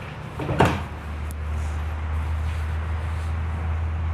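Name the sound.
horse trailer stall divider being closed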